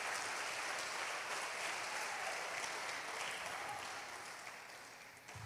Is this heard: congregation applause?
yes